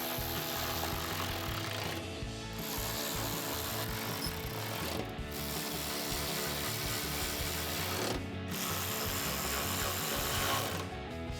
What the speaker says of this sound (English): Now we can tighten this up with the 5/16.